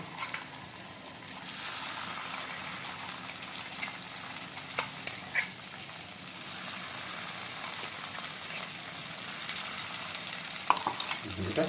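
A paste of onion, tomato, garlic and green chilli frying in a pan, with a steady, fairly loud sizzle and hiss running throughout and occasional stirring scrapes.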